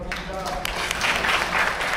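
Audience applause at a book launch event in a hall, a steady wash of clapping heard continuously, with some voices murmuring underneath.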